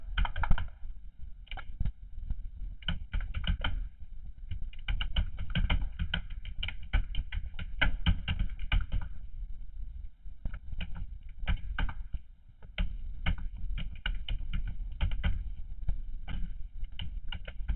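Someone types a narration on a computer keyboard while doing data entry in Tally Prime accounting software, a close, continuous patter of quick key taps in bursts with brief pauses between.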